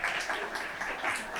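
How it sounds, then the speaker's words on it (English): Audience applause fills a dance and emerging technologies artist talk, a steady wash of many hands clapping at moderate volume with no voices on top. "one last woo and round of applause for LaJuné"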